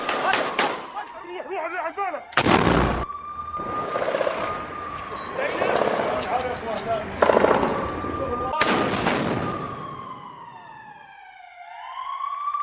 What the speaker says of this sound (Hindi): उनके खिलाफ जो फायरिंग की जा रही है वो आप जरा तस्वीरों में देखिए